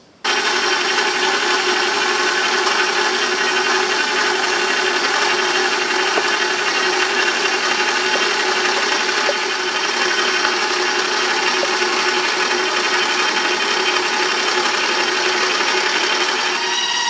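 A stand mixer kneading bread dough as flour is added a little at a time, giving a loud, steady motor whir with a constant hum and no speech over it.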